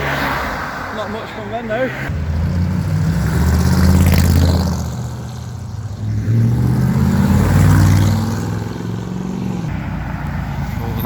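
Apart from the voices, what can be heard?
Audi R8 car departing, engine revving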